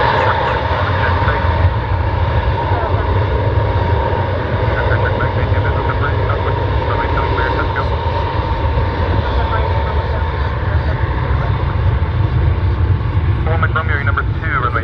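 Private jet taking off from runway 7 at Orlando Executive Airport, a steady, loud engine roar holding throughout, with tower radio chatter talking over it.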